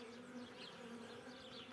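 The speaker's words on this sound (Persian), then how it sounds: "اینم زنبور در حال تولد." Honeybees hum in a continuous close buzz at a hive as a new bee emerges from its cell, a dense steady drone with faint shifting wingbeat tones and no talking.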